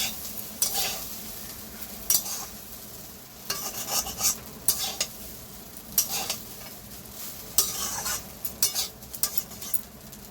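Mixed fried rice is stirred in a pan over a low gas flame: a utensil scrapes and clatters against the pan in irregular bursts over a soft, steady sizzle.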